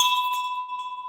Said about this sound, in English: gave a little bell ring,